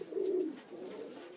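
Pigeons of foreign breeds give a soft, close coo, one low throaty call swelling and fading with a quieter second coo after it.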